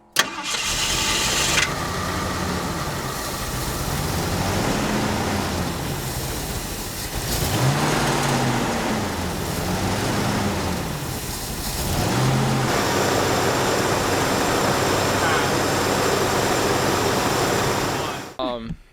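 A Ford Ranchero engine cranks several times in short bursts, then catches and settles into a loud, steady high idle close by.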